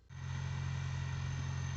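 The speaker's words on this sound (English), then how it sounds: "go warm up the tractor" Tractor engine warming up, starting with a quick rise and then settling into a steady, loud, low idle with an even throb, close by and with no talking over it.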